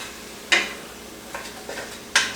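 Venison and onions get stirred in a Dutch oven over low heat, three short scraping strokes of a utensil against the pot over a faint background.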